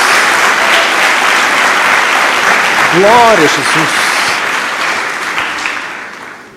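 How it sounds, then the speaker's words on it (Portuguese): Loud, dense audience applause fills a church sermon hall, with a preacher's voice calling out over it before the clapping slowly fades toward the end. "uma salva de palmas a Jesus"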